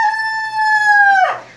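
A backyard hen, from a small mixed flock of lavender Orpington, Easter egger and buff Polish chickens, gives one loud, close, drawn-out squawking call that ends in a rough break.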